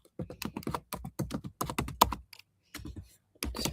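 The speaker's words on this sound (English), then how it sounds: "It's very loud, my typing," Loud, rapid keystrokes on a computer keyboard come in quick bursts, with a short pause before the clicking resumes.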